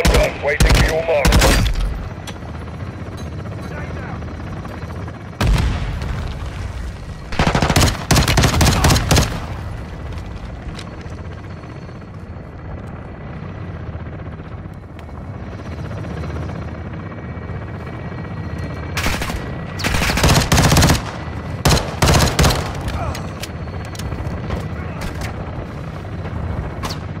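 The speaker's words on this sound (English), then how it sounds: "Weapons hot for gun run, waiting for your mark." A helicopter gun run in the video game Call of Duty: Modern Warfare 2, with several loud bursts of heavy automatic fire and booms set against a steady rotor drone between the volleys.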